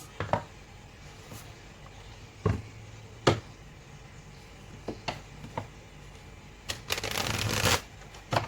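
A deck of oracle cards is shuffled by hand in short, soft riffles and slides, scattered flicks with pauses between, ending in a longer burst of rapid shuffling, close and quiet.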